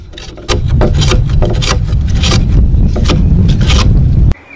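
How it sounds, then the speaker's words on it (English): A Bailey No. 4 hand plane set very light takes thin shavings off a log notch in a dovetail log cabin build, giving steady close scraping strokes of wood for about four seconds with no talking. "I'm using my Bailey number 4 hand plane"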